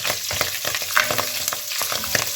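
Coriander and mint leaves sautéing with ginger garlic paste for green peas rice, a close, lively sizzle broken by irregular stirring scrapes and clicks, with no talk.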